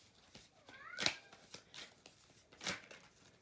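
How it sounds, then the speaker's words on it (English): A cat meows twice nearby, short rising calls about a second and a half apart, with light rustling in the background. "that is my cat."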